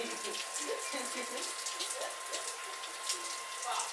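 Shower water runs in a steady hissing stream, close and continuous throughout, with a faint tone humming underneath.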